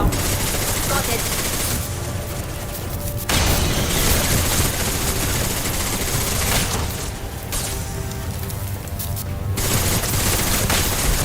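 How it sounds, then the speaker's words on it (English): Video game gunfire rattles in dense, loud automatic bursts, with heavy booming shots layered throughout and brief pauses between volleys, alongside faint game voice callouts. "Firing now."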